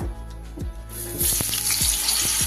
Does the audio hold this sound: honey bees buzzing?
no